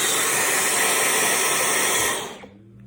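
A vacuum pulls air through athletic hoodie fabric stretched over a face mask, giving a loud, steady rushing hiss that fades out near the end.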